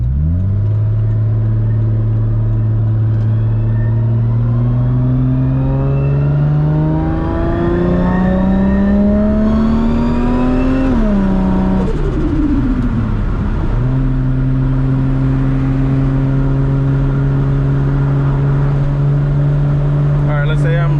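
A 1000+ HP MKIV Toyota Supra with a sequential three-speed transmission, accelerating hard in climbing engine pulls broken by gear shifts, then settling into a steady high drone. A loud, close, continuous roar dominates throughout.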